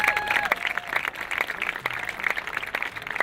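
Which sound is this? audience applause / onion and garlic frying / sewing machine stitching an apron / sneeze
audience applause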